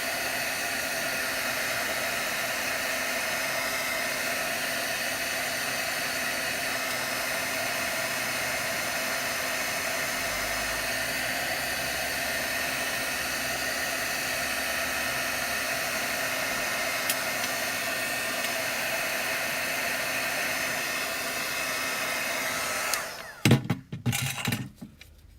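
A hair dryer blows steadily and close by for over twenty seconds while it dries tie-dyed craft paper, then cuts off near the end, followed by a few handling knocks.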